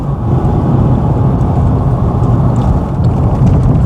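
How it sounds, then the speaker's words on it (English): A Mercedes car with a front-mounted diesel engine drives along, its steady, loud low rumble and road roar heard from inside the cabin, with no one speaking. "Just a Mercedes with a diesel engine in the front, but it's really rather planted."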